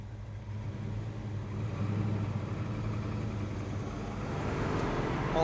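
A 1970 Chevrolet Chevelle SS rolls off from idle with a low, steady V8 drone that gradually swells louder as it drives, heard from inside without any voices.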